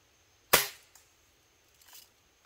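A single sharp crack from a custom-built Daisy long rifle, an air rifle with a Civil War tribute design, fired outdoors, followed by a faint distant thump of the target being hit, then quiet.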